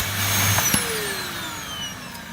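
A Dyson DC08 vacuum cleaner runs with restored suction, a steady, fairly loud whirring drone that holds for the whole stretch, with a brief knock partway through and no voices.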